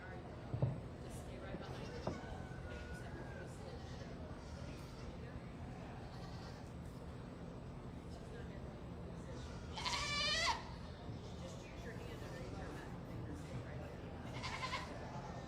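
Dairy and pygmy goats bleat now and then at a goat show, with one clear wavering call in the middle and a few shorter ones, over a steady hall murmur and a voice speaking over a PA.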